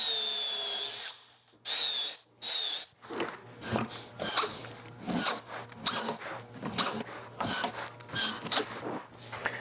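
A power drill drives 1 5/8 inch screws into a cabinet box, with several close, loud high-pitched whirring bursts followed by grinding, rasping bites as the screws sink into the wood.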